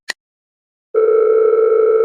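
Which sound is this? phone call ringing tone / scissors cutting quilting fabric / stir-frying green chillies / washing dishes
phone call ringing tone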